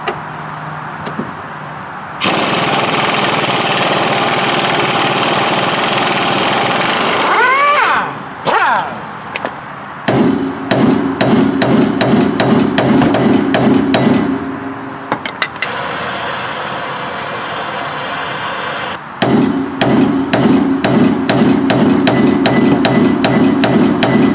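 Hammer blows knock a lower ball joint loose on a Mercedes W123 suspension, a long run of sharp metallic strikes in rapid steady rhythm, close and loud, with a grinding or rushing noise between bursts and brief gaps.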